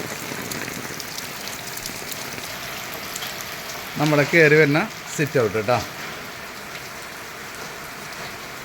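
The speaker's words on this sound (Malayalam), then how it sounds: "നല്ല മഴയാണ് കേട്ടോ അത് തന്നെയാണ് കണ്ടില്ലേ മഴ പെയ്തിട്ട്" Heavy rain pours down in a steady, dense hiss, with someone speaking briefly partway through.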